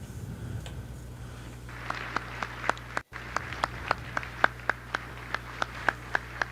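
Single-person clapping at a government briefing: a sparse, even series of sharp hand claps from one nearby person, starting after a brief low hum and continuing at a steady rhythm.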